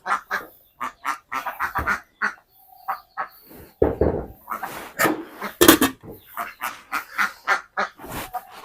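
Several ducks being fed rice alongside chickens quack loudly and close by in irregular bursts, their calls sometimes overlapping, with brief pauses in between.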